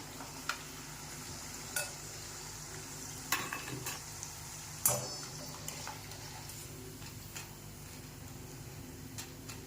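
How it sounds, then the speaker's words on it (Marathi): Sago and potato chakli frying in hot oil, a soft continuous sizzle with a few sharp clicks and taps of a utensil against the pan scattered throughout. "हे बघा इथे मी तुम्हाला काही चकल्या आहेत ते तळून दाखवल्या आहे"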